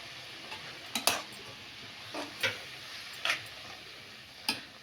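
Grated carrot for carrot halwa stirred in a pan with ghee: quiet, evenly spaced spoon scrapes and taps, about five in a row, over a faint low sizzle.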